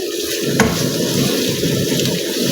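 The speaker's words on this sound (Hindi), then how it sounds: "ये घी गर्म होते ही मैंने इसमें प्याज डाल दिया है।" Chopped onions hitting hot ghee in a pan for a beef korma, giving a steady, close sizzle and crackle with a faint clink near the start, with no talk over it.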